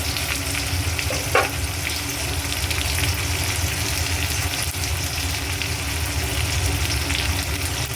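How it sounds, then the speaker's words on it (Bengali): Onions frying in oil with cumin, bay leaf and garam masala, a loud, dense, continuous sizzle close up with one brief clink near the start and no talking. "আমি পেঁয়াজগুলো ভেজে নেবো"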